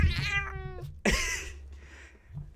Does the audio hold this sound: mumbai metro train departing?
no